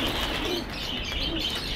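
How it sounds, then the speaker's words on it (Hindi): Pigeons released from a loft during a training session, soft cooing and chirps over a steady rush that suggests wing flapping, continuous and moderately close without any voices. "ये आदिल भाई कितने कबूतर बाहर निकले अभी, तकरीबन 60 एक कबूतर"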